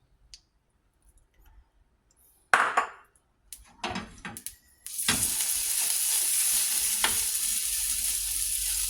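After a few clinks and knocks of a pan, food drops into hot olive oil in a heated kawali and bursts into a loud, steady sizzle that continues with occasional stirring clicks.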